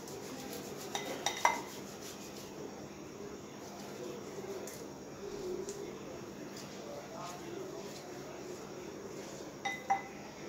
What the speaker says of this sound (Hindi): तो अब आलुओं को भी हम मैश कर लेंगे अच्छे तरीके से।